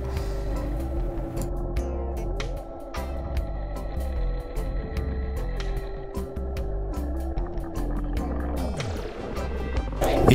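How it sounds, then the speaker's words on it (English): A diver's underwater scooter on a reef hums with a steady motor drone among crackling clicks and bubbles, then its pitch winds down as it switches off near the end. "If you listen closely to this clip, you may hear my scooter turn off."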